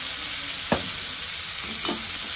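Spices are stirred into bitter gourd bhaji in a pan over a constant bright sizzle, with two distinct scraping strokes of the spoon.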